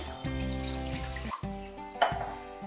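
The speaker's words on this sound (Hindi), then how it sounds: "उसमें हम ये पानी डाल देंगे" Water is poured into a kadhai set on a gas stove to start a sugar syrup for a malai sandwich sweet. It gives a brief, close liquid splash and pour over a steady tonal background.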